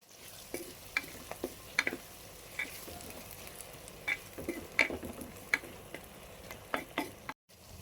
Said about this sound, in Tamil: நல்லா எண்ணெயிலே வெங்காயம் நல்லா முழுகிற அளவுக்கு இருக்குது இதை அப்படியே நல்லா வதக்கணும்